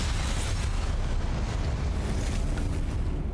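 The Confringo explosive spell in the video game Hogwarts Legacy makes a loud, sustained roaring rumble that stays dense and steady for several seconds, with no clear speech over it.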